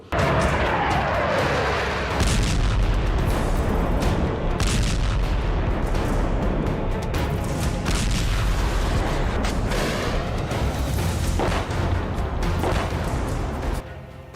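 Rocket strikes and artillery explosions from the Russia-Ukraine war roar in a dense, continuous barrage of heavy booms and blasts, loud and sustained throughout with no clear pauses.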